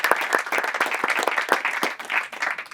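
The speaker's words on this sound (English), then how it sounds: "give them a round of applause" Close, lively applause from the audience at a White House screening of a national parks documentary, a brisk run of crisp individual claps merging into a steady patter over a few seconds.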